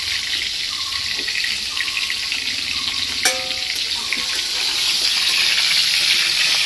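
Whole pointed gourds (potol) fry in oil in a pan with a steady, broadband hiss that holds at an even level throughout. One sharp click sounds near the middle, and the sizzle grows slightly louder toward the end.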